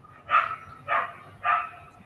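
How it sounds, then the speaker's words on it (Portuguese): A dog barks in the background of an online video meeting, three distinct mid-range barks spaced about half a second apart, moderately loud with no talk over them. "Estava o cachorro aí animado."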